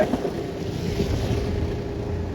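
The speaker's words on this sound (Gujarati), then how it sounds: "જો વરસાદ અંધરાધાર પડે છે" Dense, steady roar of heavy rain with a windy rush, loud and continuous throughout, no voices.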